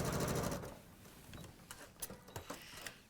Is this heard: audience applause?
no